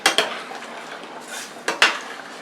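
A spoon scrapes and clinks against a pot while stirring homemade fish chowder, with several sharp metallic strokes near the start and again toward the end, close and fairly loud, no voices.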